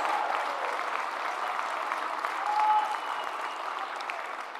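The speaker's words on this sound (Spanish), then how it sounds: "Un gran aplauso a todos y a todas." Steady, sustained applause from a large crowd at a Claudia Sheinbaum event for elected legislators, loud and continuous throughout with a brief swell near the end.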